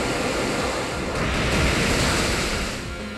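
A rushing water effect for the Waterfall move in Pokémon Omega Ruby, a broad, loud surging wash that swells in the middle and fades slightly at the end, with no talking.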